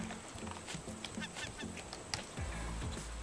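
Honking, goose-like bird calls from the survival video game Raft, a few short nasal squawks over game ambience, moderately loud and near.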